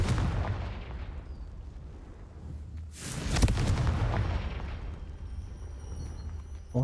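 Confringo spell blasts in the video game Hogwarts Legacy: a couple of booming impacts, the strongest near the middle, over a rumbling game background.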